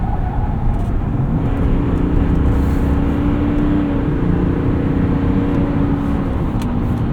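A 2026 GMC Sierra 1500 Denali pickup with the Duramax diesel accelerates up an entrance ramp. From inside the cab it is a steady, loud engine drone mixed with road and tire rumble, and there is no talk.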